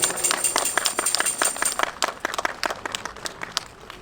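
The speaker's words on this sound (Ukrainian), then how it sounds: "Оплески для наших діток." An audience applauds children after their performance at a Ukrainian nativity play with traditional carols, a dense burst of hand clapping that thins into scattered, uneven claps as it fades.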